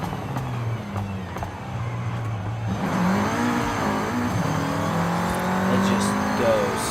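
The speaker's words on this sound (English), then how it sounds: "Volkswagen Golf R. This is the race model." A 2014 Volkswagen Golf R race model engine droning steadily, then climbing in pitch as it accelerates through the second half, with a faint voice underneath.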